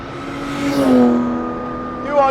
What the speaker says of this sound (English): the hills are alive with the sound of Ferrari music